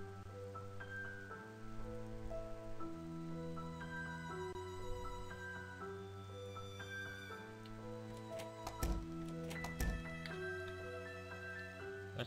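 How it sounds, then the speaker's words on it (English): Steady rain patters beneath sustained, layered musical tones in the video game Project Zomboid, with a few brief sharper bursts near the end. "What's with all the rain?"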